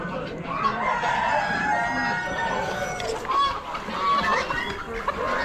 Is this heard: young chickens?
yes